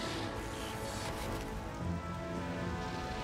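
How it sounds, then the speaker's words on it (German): Rain falling in the Wizard101 video game, a steady, even hiss of drops pattering on surfaces, soft and continuous without any gaps. "jetzt regnet es hier auch"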